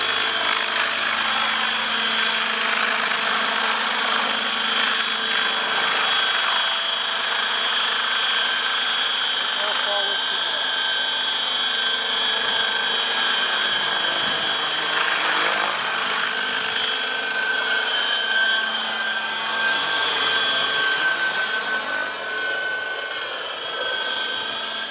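A Hirobo EC120 radio-controlled helicopter converted to electric power flies a test flight, giving a steady, loud electric motor whine with rotor buzz and fairly constant tone throughout, with no speech heard.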